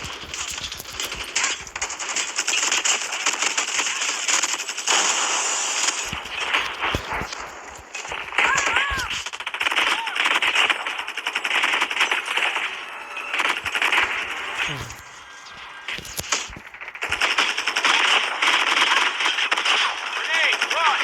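Call of Duty Mobile gunfire crackles in dense, rapid automatic bursts that run almost continuously for around twenty seconds, loud and busy, with players talking over it.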